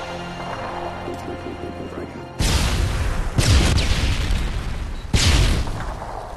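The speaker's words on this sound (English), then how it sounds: "Grenade!" A video game grenade explodes in a search and destroy match, followed by more heavy booms: three loud, close blasts, each starting abruptly and rumbling for about a second. Game music plays faintly before the first blast.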